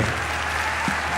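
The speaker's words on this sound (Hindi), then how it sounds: "एक बार जोरदार तालियों के साथ उसका स्वागत करिए।" Loud, continuous applause from a crowd at a Hindi comedy poetry gathering, welcoming a poet to the stage, steady and unbroken over the short span.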